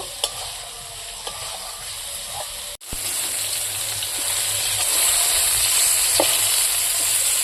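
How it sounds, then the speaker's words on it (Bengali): Brinjal frying in oil in a pan gives a loud, continuous close sizzle with occasional stirring knocks, a short break midway, then a fuller, more intense hiss. "ভালো করে বেগুনটা ভাজি নেব।"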